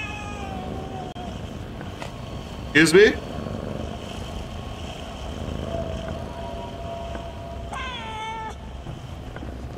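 A cat meows in a dark, haunted house setting in Crime Scene Cleaner, a sharp burst around the third second and a rising, wavering call near the eighth, set against a steady ambient drone with someone talking.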